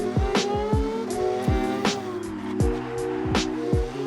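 Repeated revving of a car engine in the racing video game Forza Horizon 6, pitch sweeping up then dropping with each gear change, sometimes with a short tire squeal, loud and close.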